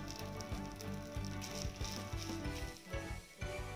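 Rice going into hot ghee in a kadai for biryani, a soft steady sizzle and crackle with faint scraping, quiet and close with no talk.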